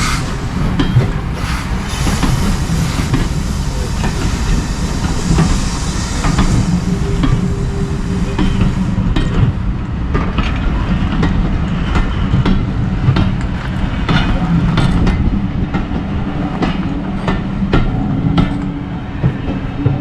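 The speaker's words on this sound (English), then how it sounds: "So as the train heads off into the distance" A steam train departing Buckfastleigh, Devon, rumbles and clatters steadily past with a broad hissing roar, sharp rail clicks repeating as it rolls on, fading slightly toward the end.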